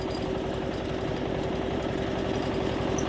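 A power tiller (walking tractor) engine runs steadily at close range, a loud, even, rough mechanical chug with a constant hum and no pauses, heard while the machine is driven on a road.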